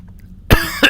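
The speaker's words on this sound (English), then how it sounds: "Why do I have to have a coughing attack right now?" A sudden burst of harsh, close coughing cuts through near-silence, with a loud first cough followed by two more hacking coughs in quick succession.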